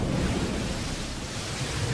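Tidal bore of the Qiantang River, a wild surge of water up the river channel, heard as a steady, loud broadband roar of churning water and wind-like rush with no breaks.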